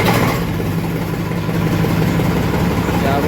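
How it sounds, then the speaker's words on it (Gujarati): A tractor engine warms up on a farm after rain, running with a loud, steady, close rumble that holds even throughout. "ચાલો આપણે તો ટ્રેક્ટર થોડી દેર ગરમ કરી લઈ."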